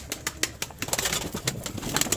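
A domestic pigeon coos close by in a loft, several soft throaty calls mixed with small rustles and faint wing movement.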